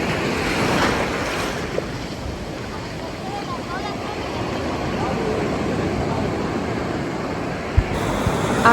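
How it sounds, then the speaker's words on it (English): Rough, aggressive ocean waves crash and surge at a beach on Oahu, Hawaii, a loud continuous roar of surf mixed with wind buffeting the microphone throughout. "these waves are crazy, man."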